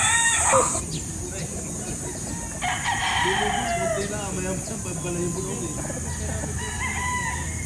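Imported chickens and roosters on a clean farm crow and cluck, with a drawn-out cock-a-doodle-doo rising midway over constant farmyard background noise, while someone talks over them.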